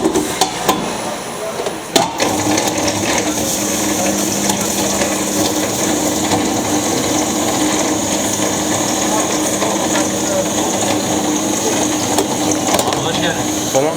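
A loud kadayif pastry machine runs continuously in a Malatya market shop, a steady mechanical clatter and whir close by, with people talking under it.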